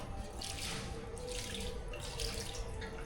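Water runs steadily from a tap or into a basin as feet are washed, a continuous splashing rush with small surges and no voices.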